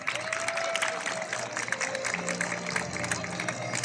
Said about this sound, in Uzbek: Olqishlar bilan kuzatib qo'yamiz.